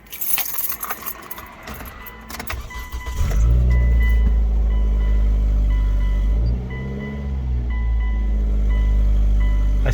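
A 2005 Hyundai Tucson engine and exhaust running after a flex joint replacement, with a steady low rumble that starts abruptly after several seconds of clatter and handling noise, then holds loud and even with a brief dip partway through.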